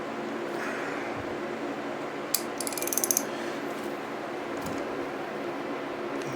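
A ratchet wrench cranks down a castle nut on a wheel hub to seat the bearing, a quick burst of rapid clicks standing out near and clear against a quiet, steady background hiss.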